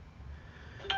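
A phone gives a short electronic beep near the end of a quiet stretch of low room hum, a single brief tone with no talking over it.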